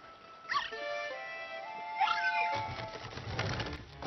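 A dog character in the Luigi's Mansion 3 video game whimpers in high, wavering whines, two separate cries over a soft game background, followed by a rougher rustling sound.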